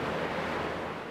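Ocean surf breaking right outside The Marine Room restaurant windows in La Jolla, a steady dense wash of waves and spray with some wind noise, loud and close, no voices.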